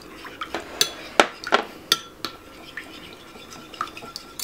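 Spoon stirring tomato sauce thinned with water and olive oil in a cooking pot, several sharp clinks against the pot early on, then fainter scraping strokes, no talking.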